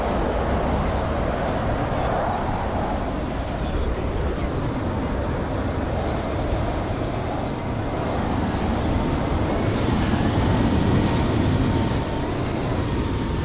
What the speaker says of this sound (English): Just letting you guys hear the traffic for a minute.